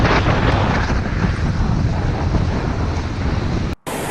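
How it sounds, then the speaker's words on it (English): Heavy surf pounding Big Beach, waves breaking in a continuous loud roar with wind buffeting the microphone, close and unbroken, cut by a brief dropout near the end. "Each wave is like an express train"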